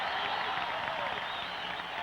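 A stadium crowd of 50,000 at the 1977 World Frisbee Championships in Pasadena, California, roars with steady, dense cheering and applause from a distance, continuous throughout.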